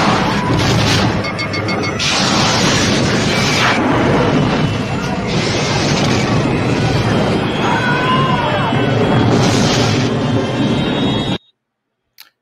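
Starship phaser fire and explosions from the Star Trek film Wrath of Khan, a loud, dense stretch of crashing blasts, booms and whining energy beams with film dialogue mixed in, cutting to silence at the end.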